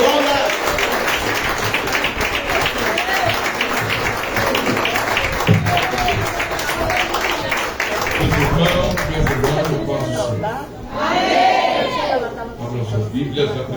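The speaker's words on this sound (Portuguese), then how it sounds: "Receba o servo do Senhor com as palmas para Jesus" Church congregation clapping along during a worship service, a steady dense patter of hands with voices singing and calling out over it, continuing loud and close throughout.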